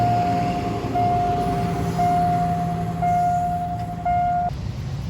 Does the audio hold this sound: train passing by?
yes